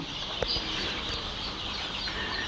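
Fayoumi and Tiger chickens clucking softly amid steady farmyard background noise, with one brief louder call near the start.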